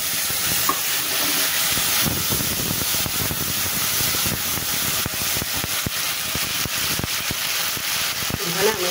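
Bay leaf, dried chili and cumin-ginger paste sizzle steadily in hot oil, with repeated clicks and scrapes of stirring running through the close, continuous frying.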